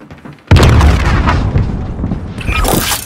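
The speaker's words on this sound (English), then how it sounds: "Throwing frag." A frag grenade in Call of Duty: Warzone goes off with a sudden loud boom after a brief quiet moment, and a rumbling tail follows, ending in a sharper crackle.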